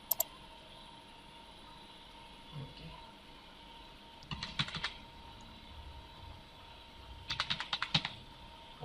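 Quiet bursts of computer keyboard typing come in two short clusters as card details are entered, close-miked clicks over a faint room hiss with a few stray taps between.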